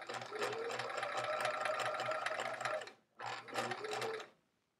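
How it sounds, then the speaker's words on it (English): A sewing machine stitches quilt pieces at a scant quarter-inch seam, running in a steady mechanical whir for about three seconds, pausing briefly, then resuming for another second before stopping. "sewing the scant quarter inch"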